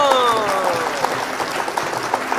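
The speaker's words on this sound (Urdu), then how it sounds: "تالیاں." An audience gives a steady wash of applause, dense and continuous, with a faint tonal whine running through it at the start.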